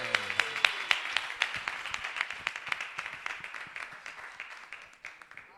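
A church congregation applauds together, dense clapping with sharp rhythmic claps building at first and then gradually thinning and softening, without voices.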